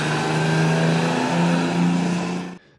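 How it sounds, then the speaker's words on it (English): A properly tuned Detroit Diesel two-stroke engine runs with a loud, close, steady mechanical roar and a strong droning pitch that rises slightly midway, then cuts off abruptly near the end. "The sound of a properly tuned Detroit Diesel two-stroke"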